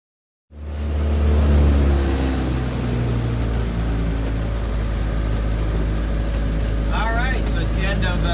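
An S19 boat powered by a Viking 110 engine fires up and pulls away, a loud, steady engine drone that starts abruptly and holds, with a faint voice-like warble near the end.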